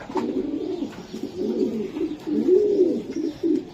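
Racing pigeons in a breeder's loft coo steadily in low, rolling phrases, close by and fairly loud, with no talking.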